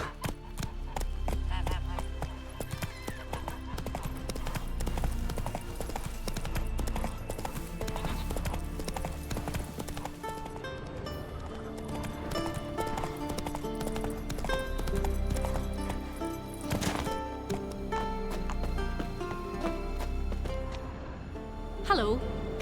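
Horse hooves gallop in The Witcher 3, a loud, continuous rhythmic clip-clop with an occasional whinny, layered with game music and characters' voices speaking.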